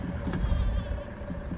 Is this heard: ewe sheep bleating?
yes